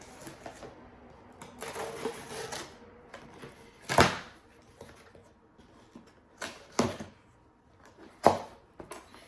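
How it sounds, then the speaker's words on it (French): An Amazon parcel being opened by hand, with scattered crackling, tearing and thumping of cardboard and packaging in short bursts, close by in a quiet room. "un colis d'Amazon. On va l'ouvrir ensemble"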